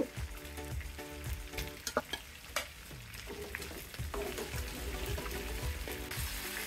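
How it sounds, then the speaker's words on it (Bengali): A catla fish head fries in hot oil with a close, bright sizzle and crackle, broken by a few sharp spatter pops and light utensil clinks. "আর মাছের মাথাটাকে আরেকটু বেশি করে ভেজে নেব।"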